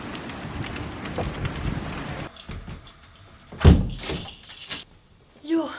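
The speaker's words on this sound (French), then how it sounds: "il pleut, c'est horrible" Heavy downpour heard outdoors, a dense, loud rain hiss for the first couple of seconds, then a door thumps shut and the rain fades behind it, with a few bangs and rustles nearby.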